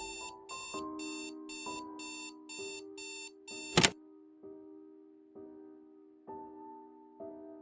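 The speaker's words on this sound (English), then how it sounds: "Yet another grim day started with the alarm clock blaring maddeningly." An alarm clock blares in rapid, evenly spaced electronic beep bursts, then stops abruptly with a sharp thunk, leaving low sustained tones behind.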